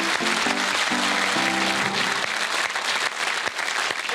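Studio audience at a pub quiz show breaks into loud, sustained applause, dense clapping throughout with a brief musical sting underneath at the start.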